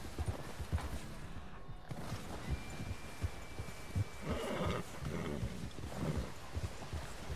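A horse is ridden in Red Dead Redemption 2, with hoofbeats clopping steadily under an outdoor wilderness ambience and a faint whinny partway through.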